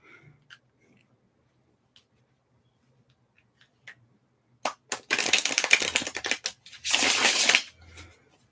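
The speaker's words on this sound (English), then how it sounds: "wait there patiently while I shuffle the cards." A deck of cards is shuffled close up in an ASMR setting. After a near-silent stretch with faint ticks, crisp riffling bursts arrive around the five-second mark and again a bit later.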